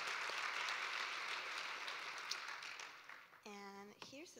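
Audience applause at a literacy research conference awards session, a steady broadband patter of many hands that thins toward the end before a voice begins speaking.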